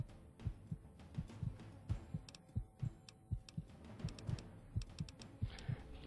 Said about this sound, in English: heartbeat sound effects when you're injured